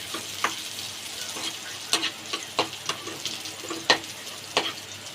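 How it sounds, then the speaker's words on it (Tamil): Pieces of ginger frying in a pan, a close crackling sizzle broken by repeated sharp spatula scrapes and stirs in an irregular rhythm, with no voices. "அந்த இஞ்சியை போட்டுடுவோம். இது ரெண்டும் நல்லா ஃப்ரை ஆகணும்."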